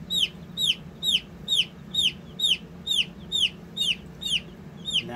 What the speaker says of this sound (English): So there we have it, 25 chicks. They all seem pretty healthy.